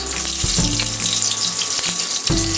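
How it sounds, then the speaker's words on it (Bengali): Pointed gourd (parwal) frying in measured oil in a wok gives a loud, continuous close sizzle and crackle, with a few knocks of the pieces being moved and no voices. "এই প্রথমেই পটলটা ভেজে নিই।"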